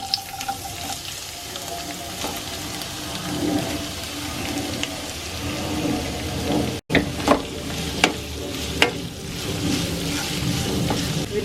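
Long sliced onions dropped into hot oil with toasted fenugreek seeds, frying in a pan for a fish head curry, with a steady close sizzle, stirring scrapes and a few sharp clinks.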